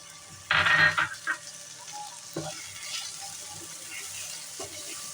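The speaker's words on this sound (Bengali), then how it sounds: "এখন দিয়ে দেব কেটে রাখা টমেটো।" Chopped tomatoes tipped into ginger-garlic paste frying in a pan for prawn malai curry set off a loud, close burst of hissing sizzle that quickly settles into a quieter steady crackle.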